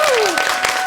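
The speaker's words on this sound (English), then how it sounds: "Can we get a big applause once again from the crowd?" A live studio audience at a Korean morning radio broadcast claps in dense, loud applause, with a voice sliding briefly over the start.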